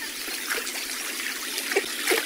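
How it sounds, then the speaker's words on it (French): A river meanders along shaded trails through marshland in the Aisne, its water trickling and splashing gently in a steady close babble, with a few brighter splashes standing out near the end. "Découvre cette rivière qui musarde entre les sentiers ombragés"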